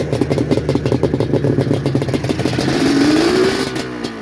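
An old race bike motorcycle rides along the road at close range, its engine a steady loud rumble with a rising rev near the end.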